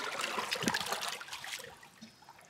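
Water pours and trickles steadily into a koi pond, a close, continuous splashing dribble that tapers off slightly toward the end, with no talk.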